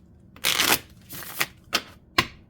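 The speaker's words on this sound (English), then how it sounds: "they are very nice to shuffle" Close crisp riffling of a deck of thin, see-through waterproof playing cards, one long shuffle followed by several short sharp flicks and snaps.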